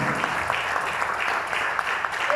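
A church congregation bursts into continuous, enthusiastic applause in praise of the Lord, a full, dense wash of clapping filling the room with no voices over it.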